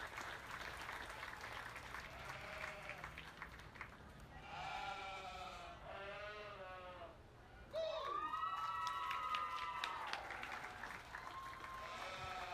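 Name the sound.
round of applause at sheep show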